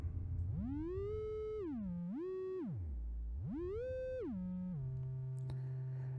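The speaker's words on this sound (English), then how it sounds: "So let's look at the triangle wave." Triangle wave from a VCO in VCV Rack, a software modular synthesizer: a clean, bright buzzy tone that glides up and down in pitch in smooth sweeps, then settles on a steady low note.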